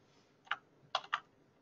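A few sharp keystrokes on a computer keyboard, three separate taps spread over a quiet second, close and fairly faint with no one talking.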